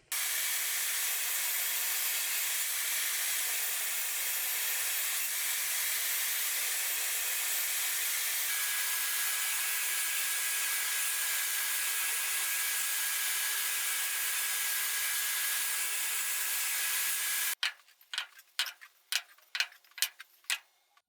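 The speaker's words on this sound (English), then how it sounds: "I'm going to cut the dowel rods to length" A steady, loud saw drone runs unbroken for most of the time while wooden dowel rods for ladder rungs are cut to length, then stops abruptly and gives way to a quick series of sharp knocks.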